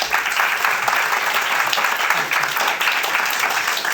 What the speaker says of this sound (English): please can you give a big round of applause and welcome John Ashworth to the stage